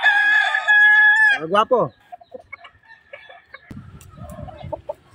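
An Allen Roundhead rooster, light-side with white hackle, crows loudly and close for over a second, then clucks briefly; soft rustling follows with a short spoken word.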